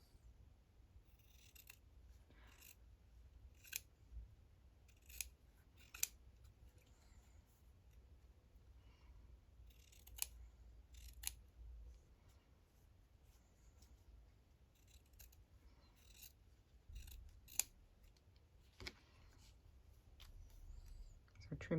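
Scissors trimming narrow paper tags at a craft table, heard as faint, scattered snips spread across a quiet room with soft background rustle.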